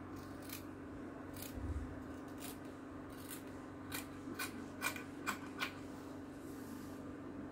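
Scissors cut a breast pad shape for a sewn bustier, giving a run of quiet, crisp snips that grow sharper and closer together toward the end over a faint steady hum.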